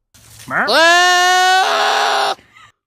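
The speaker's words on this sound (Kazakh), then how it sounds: "мына тұяқтар мен шапалақтарған қойлардың дауысы жарқ ете қалды ғой" A single sheep bleats loudly and close by, one long wavering call that shifts tone midway before cutting off.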